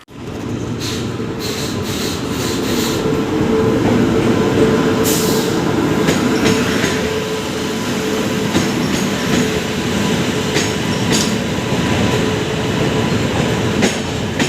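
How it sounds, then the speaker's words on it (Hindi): A train pulls into a station on the way to Banaras, with a loud continuous rumble of wheels on rails, rhythmic clatter and brief high squeals and hisses close by, and no voices. "ट्रेन आ चुकी है।"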